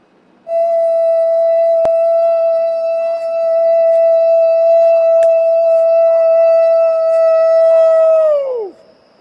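A person imitates a wolf howl with one loud, steady, pure tone held for about eight seconds, then sliding down in pitch at the end, with nothing else heard.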